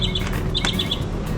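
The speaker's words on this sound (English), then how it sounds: "Ospreys are chipping away. The other birds are too." Ospreys and other birds chirp outdoors on a rainy island beach, giving short bright repeated calls in quick bursts over a soft steady background hiss, fairly close and clear.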